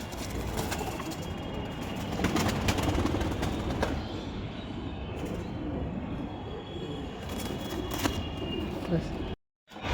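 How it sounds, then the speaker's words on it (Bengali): Jira pigeons at a pigeon seller's loft coo and call amid a busy, noisy background that stays loud throughout, with a brief cutout near the end. "দাদার বাড়ি জিরা পায়রার কোনো শেষ নেই, এখনও পর্যন্ত জিরা পায়রা বেরোচ্ছে"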